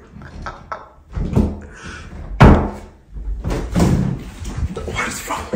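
A door is held shut and banged from the other side, with several sharp thumps and slams spread over a few seconds, mixed with voices talking nearby.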